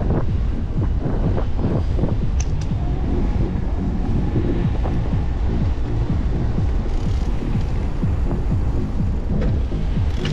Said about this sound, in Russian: Против ветра едем.